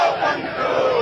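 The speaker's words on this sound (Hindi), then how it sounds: "देखिए कितनी भीड़ इस हुजूम में दौड़ी हुई है, कितने लोग इस जुलूस में शामिल हैं" Protest procession crowd marching in Varanasi against railway privatization, a loud, close mass of voices shouting and chanting together in a brief, dense burst.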